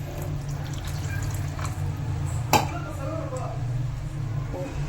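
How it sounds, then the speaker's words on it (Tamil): Tamarind water is poured into a pot of turkey berry (sundakkai) curry, a steady trickle of liquid over a low background hum, with one short splash partway through. "புளி தண்ணி கரைச்சி வச்சுருக்கேன், அதையும் ஊற்றிக்கலாம்."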